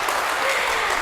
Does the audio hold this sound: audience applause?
yes